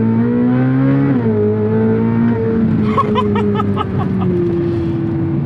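A Corvette C8 Z06 engine drones loud and close from inside the car, its tone stepping through gear changes with a steady harmonic whine; a voice is briefly heard over it.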